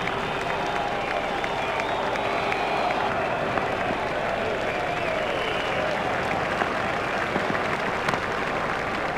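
A cricket crowd at a South Africa versus West Indies one-day international applauds a batsman's century with sustained, dense clapping and cheering that fills the whole stretch, with a commentator's voice faintly underneath.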